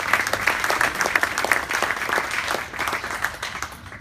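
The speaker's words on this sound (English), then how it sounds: "Round of applause, please, for Steve Manley" Steady audience applause fills a hall at an IT industry evening event on cloud computing, as a NetApp vice president is welcomed; dense, even clapping holds throughout with no break.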